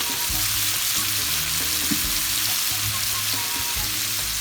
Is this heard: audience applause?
no